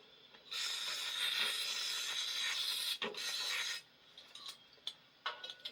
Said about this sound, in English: So, shoot some WD-40 on there.